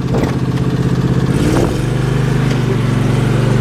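An MTD lawn tractor's small engine runs loud and close, a steady rough chugging idle with a slight shift in pitch partway through, mechanical rattle on top and no talking.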